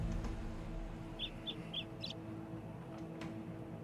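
A bird in the video game Red Dead Online gives a short series of three or four quick chirping calls over a steady ambient game background.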